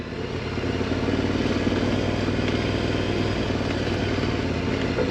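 A KTM 1090 Adventure big bike runs close by, its engine a steady, full drone that swells in during the first half second and then holds a constant rumble throughout.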